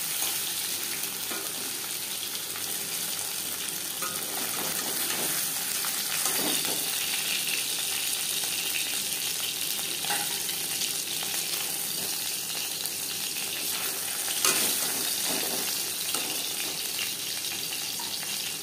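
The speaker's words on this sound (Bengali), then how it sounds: "মাছ আমি হালকা করে ভেজে নিলাম।" Pieces of bhetki fish fry lightly in oil, a soft, steady sizzle running unbroken for the whole stretch with occasional faint clicks and no talking.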